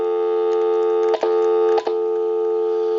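Verizon E 9020 cordless telephone sounding a steady tone through its handset, broken by two quick keypad presses, close and clear without speech.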